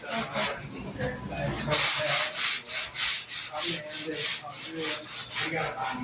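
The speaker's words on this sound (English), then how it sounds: "sand like this to keep going down, right?" Hand sanding on a car body panel during home body work: steady rhythmic back-and-forth rubbing strokes, about a dozen passes, close and fairly loud, with no talk.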